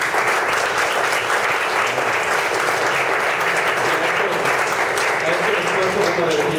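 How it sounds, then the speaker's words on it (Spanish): Steady applause from a crowd attending a novel presentation, dense and sustained throughout with faint voices mixed in near the end. "me gustaría que le diéramos un aplauso"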